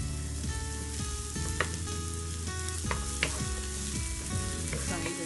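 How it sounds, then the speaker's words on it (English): Spring onions and white onions with green chilies fry in a pan for chicken fried rice, giving a steady close sizzle broken by several sharp clicks and scrapes of stirring, with no voices. "Just fry nicely. The spring onions, the white onions."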